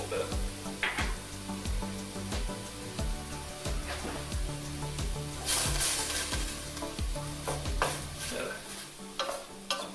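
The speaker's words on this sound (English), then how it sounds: "you can hear it sizzling" Chopped vegetables fry in a hot pan as the base for red beans, crackling and sizzling steadily while a utensil stirs them in repeated scraping strokes, with no voices.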